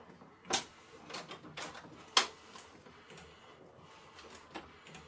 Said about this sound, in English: actually this printer, if you want, you can open the lid.